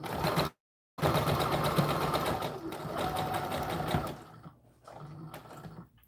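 A sewing machine stitches the bodice of an American Girl doll dress, running steadily and close with a whirring mechanical drone, cutting off briefly after half a second, then resuming and slowing into shorter reverse-and-forward bursts at the end.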